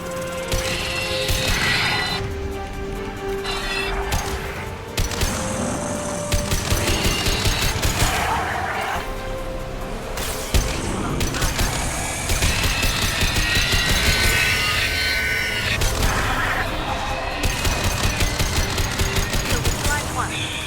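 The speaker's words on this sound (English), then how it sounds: "Stop firing at me, idiot!" Steady exchanges of rapid gunfire from Mass Effect 2 on PC, repeated loud bursts and crackling shots running throughout, with voices speaking between volleys.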